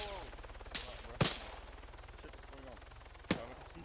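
Three sharp gunshots crack out in the Arma 3 video game, two close together near the start and one after a longer pause, each standing out against a quiet, faintly humming background.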